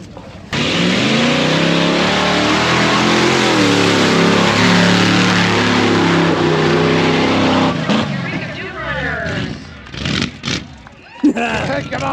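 A mud bog truck with a transfer case in neutral roars at full throttle through a run, a loud sustained engine blast for about eight seconds before it cuts off and people's voices take over.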